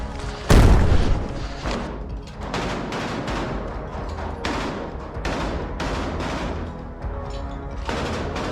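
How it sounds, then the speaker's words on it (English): Short bursts of gunfire aimed at enemy drones in urban combat in Pokrovsk, Ukraine, opening with a heavy boom followed by repeated rapid volleys and scattered shots, loud and close throughout with no talking. "short bursts of gunfire to shoot down enemy drones"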